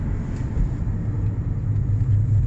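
A 2013 Nissan Altima with its muffler deleted cruises at steady speed through a quiet neighborhood, giving a continuous low exhaust rumble and drone with no talk over it.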